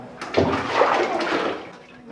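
In a bathroom, water is poured from an old paint container, a short splashing gush of about two seconds that is loud and close, with no talk over it.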